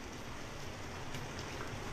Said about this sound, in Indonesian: Ah, dah hujan pun, Su Azman.